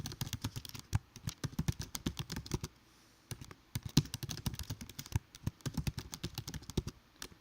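Quick, steady keystrokes on a computer keyboard while an email address is typed, a close, clicky patter with one short pause partway through; no voices.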